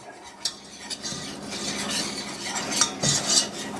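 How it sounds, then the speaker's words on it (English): A butter and flour roux cooks in a saucepan while a utensil stirs it, making uneven scraping and light metallic clinks against the pan, with a faint sizzle underneath. "We're going to mix those together, and we're going to cook this for roughly a minute."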